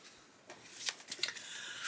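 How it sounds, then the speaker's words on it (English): Tarot and oracle cards being shuffled by hand, a soft papery riffling and sliding that builds into brisk, rustling flutters, quiet and close with no voice over it. "I'm going to take the cards and shuffle"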